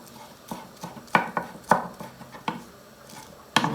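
A knife chops greens on a board in irregular sharp knocks, about a dozen strikes, close and fairly quiet with no speech.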